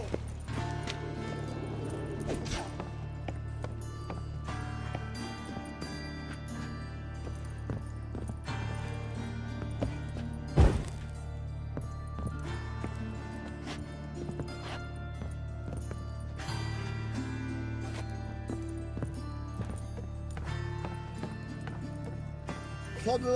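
Horse hooves clip-clop steadily in a Witcher 3 video game chase, a continuous rhythmic gallop mixed with game sounds, one brief sharp impact midway, and voices talking over it.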